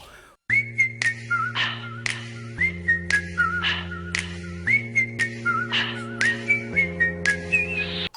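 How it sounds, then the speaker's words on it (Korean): Someone whistles a melodic tune in repeated phrases over a steady sustained musical backing, clear and close. "휘파람이라 여러분이 다 좀 집중해서 들어주셔야 돼요"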